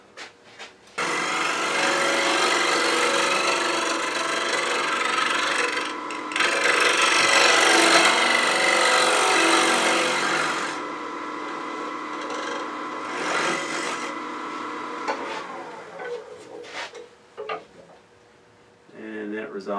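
A square end scraper scrapes against spinning wood on a lathe in a loud sustained rasp, easing off and returning, then fading into quieter scrapes near the end.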